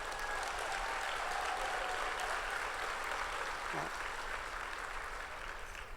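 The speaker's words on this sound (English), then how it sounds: "Please applaud, yes." Audience at a community college commencement ceremony applauding, a broad, even wash of clapping from a large crowd heard at a distance, steady throughout and fading slightly at the end.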